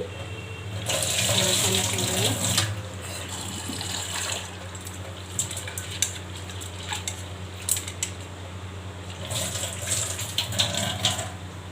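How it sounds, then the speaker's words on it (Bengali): Masoor lentils are rinsed under a running kitchen tap, with water splashing steadily into a bowl or sink and light clinks of a utensil toward the end. "ভালো করে মুসুরির ডালটা ধুয়ে নিচ্ছি"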